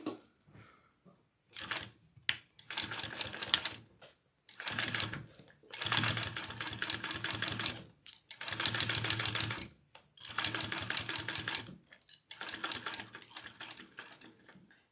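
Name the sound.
sewing machine stitching a bag seam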